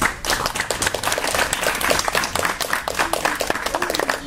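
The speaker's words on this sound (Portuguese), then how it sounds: "Então, uma salva de palmas à Carolina." An audience at a kindergarten finalists' celebration breaks into dense, sustained applause, steady and loud throughout with a few scattered voices mixed in.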